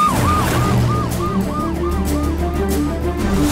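Ambulance siren wailing in a steady repeating two-tone up-and-down pattern, loud and close, over a low engine rumble.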